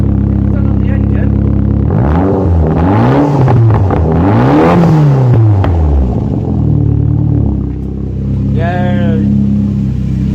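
The engine of a Vauxhall Corsa C track car with a B204 engine is revved loud and close, climbing and falling in two big swells, then settling into a rumbling idle while a voice speaks briefly over it.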